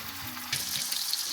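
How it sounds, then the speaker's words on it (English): Rice with Vienna sausages, onions and chilies frying in a pan, a steady close sizzle with soft crackle that grows a little louder partway through, no talking. "Now as it starts to fry a little bit, I'm going to drop in the eggs."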